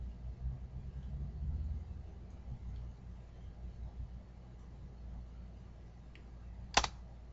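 Someone types a web address on a computer keyboard: soft, scattered key clicks sit under a steady low hum, with one sharper click standing out near the end.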